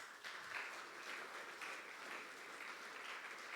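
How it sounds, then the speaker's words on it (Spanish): A church congregation claps in praise to the Lord, a steady wash of moderately distant applause with a faint rhythmic pulse that continues unbroken, with no one speaking. "¿por qué no le das un aplauso al Señor?"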